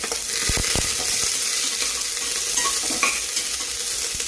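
Vegetables sauté in a hot pan, a constant sizzle broken by several clanks and scrapes of a spoon stirring near the start.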